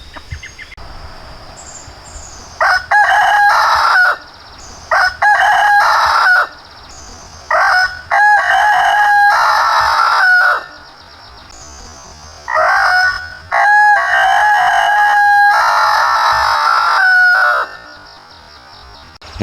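Fred, a homestead rooster, crows loudly and close by, several long drawn-out cock-a-doodle-doos in succession with short gaps between, over faint background insect and farmyard noise.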